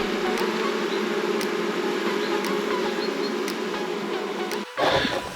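Honeybees buzz in a dense, continuous drone during a hive inspection, close and steady throughout, with a brief rustle near the end.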